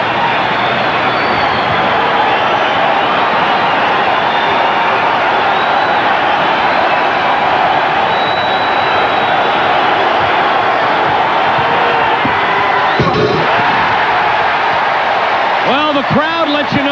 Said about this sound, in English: Well, the crowd lets you know what they think of it.